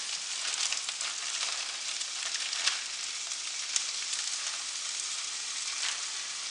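Peppers added to a pan of cooking onions give a steady, close, loud sizzle, a continuous bright hiss with a few small pops.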